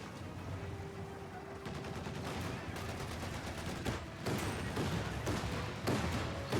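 A flak half-track firing at Grenadiers in the strategy game Company of Heroes 2, a dense continuous rattle of rapid gunfire with heavier impacts and bursts, steady and fairly loud under faint background battle noise.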